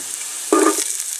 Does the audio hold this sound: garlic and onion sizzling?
yes